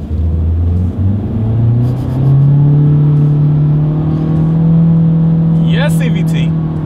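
2023 Honda Civic Hatchback with a naturally aspirated four-cylinder and CVT accelerating from inside the cabin: a loud, steady engine drone rising and then holding at a constant pitch, with road rumble underneath and a brief voice near the end.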